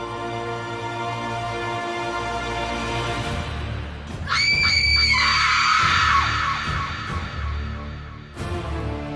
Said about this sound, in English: The cold, the darkness, the mysterious scream.